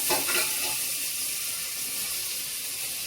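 Vegetables with rice and dal sautéing in a spoonful of ghee, a steady close sizzle and hiss with a few soft stirring scrapes near the start, no voices.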